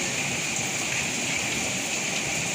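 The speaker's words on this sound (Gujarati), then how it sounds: "ફૂલ વરસાદ આવે છે" Steady, dense rain hiss with no pauses, a constant wash of falling water close by, no voices.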